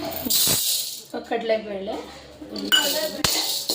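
Roasted cumin seeds are tipped onto a metal plate, with close metallic clinks and scraping as a utensil knocks the plate, while a person talks over the clatter.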